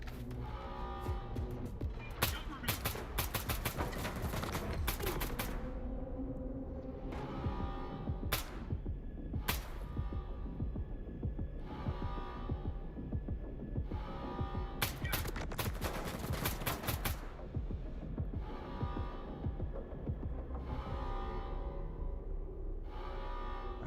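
Loud in-game gunfire in S.T.A.L.K.E.R. 2: Heart of Chornobyl: repeated bursts of automatic weapon fire, separated by short pauses, over a steady bed of game ambience.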